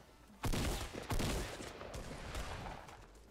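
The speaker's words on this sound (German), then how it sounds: "Ich schieße auf euch!" Bursts of gunfire in the Fortnite video game, two sharp loud volleys close together followed by a rattling stretch of quicker shots, with no talk over them.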